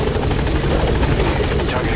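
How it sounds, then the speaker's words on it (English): Support helicopter in the video game Metal Gear Solid V, a loud steady rotor chop with fast blade pulses throughout, with no talk over it. "Please select a support helicopter"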